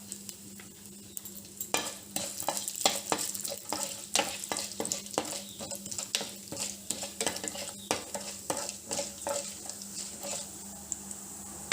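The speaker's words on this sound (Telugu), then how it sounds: "బ్రౌన్ కలర్ వచ్చేదాకా వేయించుకున్నాము" Tempering seeds fry in hot oil until brown for an egg masala gravy curry, a steady sizzle broken by repeated scraping stir strokes and clinks of a spoon against the pan, with no talking.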